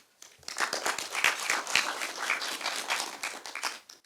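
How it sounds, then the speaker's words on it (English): An audience at an environmental youth challenge launch claps for Director Gordon. The clapping starts fast, holds as a lively burst for several seconds, and tapers off. "A round of applause again for him."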